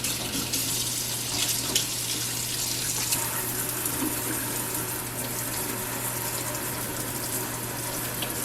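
Tap water runs steadily into a kitchen sink, a continuous broad rush with a low hum underneath, close and fairly loud for the whole stretch with no talking.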